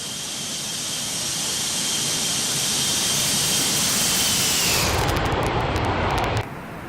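Boeing 747-200 passing in a flyby in the X-Plane 12 flight simulator, a loud steady jet roar that swells and then shifts in tone as it goes by, with no talking.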